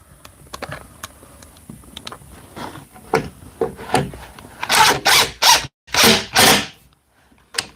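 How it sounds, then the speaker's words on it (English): Screws are driven into half-inch plywood during bookshelf building, giving a run of short tool and handling noises followed by several loud, close bursts of drilling, separated by brief pauses. "I really hate putting screws in 1/2-inch plywood."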